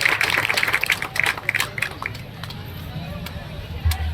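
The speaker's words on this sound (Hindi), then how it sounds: "जोरदार वो महामानव पर ताली बजा करके सम्मान करो, स्वागत करो।" A Hareli festival crowd in Chhattisgarh claps in a loud burst to honour a panthi dancer, the applause fading into scattered claps and murmuring crowd noise, with someone speaking over it.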